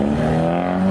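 A car fitted with an aftermarket exhaust revs loudly and close by at a car meet, a steady droning engine note held for under a second.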